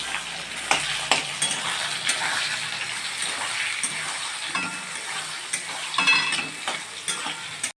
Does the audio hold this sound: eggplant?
yes